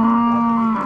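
Single sustained moo from a dairy cow at the Merki livestock market, loud and close, holding one steady tone for just under a second with no talk over it.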